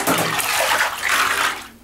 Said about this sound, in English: So what I'm going to do now is just stir it up with a hanger.